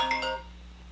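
A mobile phone ringtone goes off indoors: a short, bright two-tone chime that sounds close and clear, then fades out within the first half second.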